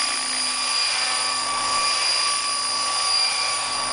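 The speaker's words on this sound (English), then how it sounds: "Nice, big, solid radio control helicopter." Flasher 600E Sport radio control helicopter with a Phoenixtech DT5035 1000kv motor and SR100A ESC, all metal parts and belt-driven tail, hovering gently: a steady, loud, high-pitched electric whine with rotor buzz, unbroken and without voices.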